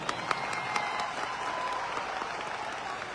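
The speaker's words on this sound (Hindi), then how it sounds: "इस प्लेटफॉर्म के लिए जोरदार तालियां होना चाहिए" Steady, enthusiastic audience applause at a leadership event, a continuous wash of many hands clapping at even loudness throughout.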